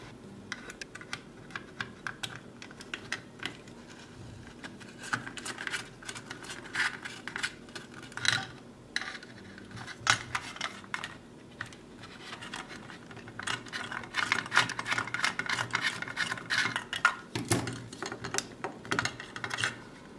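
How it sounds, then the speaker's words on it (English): A small screwdriver backs two tiny screws out of an IKEA INSPELNING smart socket with a power meter, giving close, irregular light clicks and scratchy ticks in quick bursts that run steadily throughout. "now we need a small screwdriver to take out those small two, two small screws."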